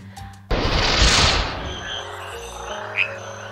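Frogs croak in the Amazon rainforest: a sudden loud burst of dense calling that fades into softer chirps and a single sharp call near the end.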